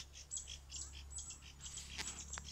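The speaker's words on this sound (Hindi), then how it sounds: "ये चिड़ियों के चहचहाने की आवाज़ आप सुन रहे होंगे।" Small birds chirp with short, high tweets scattered through a calm outdoor scene in the Shigar valley near Gulabpur, fairly faint above a steady low hum, with a sharper burst of calls near the end.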